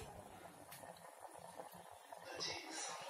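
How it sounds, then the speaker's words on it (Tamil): Soft bubbling of white vegetable kurma simmering in a pot, quiet and continuous, with faint gurgles rising slightly toward the end. "கொதி வந்துடுது."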